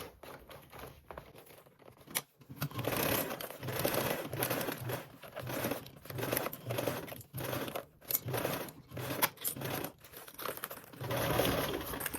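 A sewing machine bastes fabric with a 1/8-inch seam allowance, running in rapid bursts of stitching broken by short pauses.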